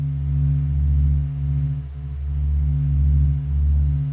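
A sonified recording of the Sun's sound in space gives a low steady droning hum with layered tones that swell and dip slowly in a wavering pulse, loud and alone.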